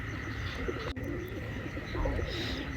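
Several pigeons in a loft coo in low, throaty, repeated calls, with light chirps and ambient noise around them and no talking.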